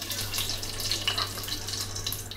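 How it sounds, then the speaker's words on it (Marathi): Whole spices such as cumin, cinnamon, cloves, black pepper, cardamom and curry leaves sizzle in hot ghee and oil in a cooker for prawn biryani, giving a steady, close, hissing crackle with no voices. "आता आपला तूप आणि तेल चांगला तापलेला त्यामुळे हे पटकन फुलन बघा"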